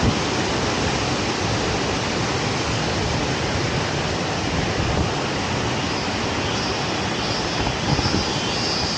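The eighth tier of Mae Sa waterfall roars as a loud, continuous broadband rush of falling water, close and steady throughout with no voices.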